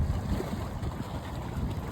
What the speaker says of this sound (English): A little windy, but